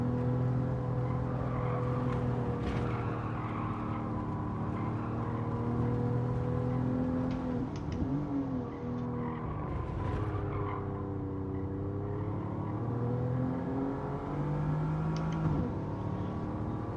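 A race car engine in Gran Turismo 7 drones and revs steadily through a lap, its pitch rising and falling with gear changes, loud and continuous with no voices.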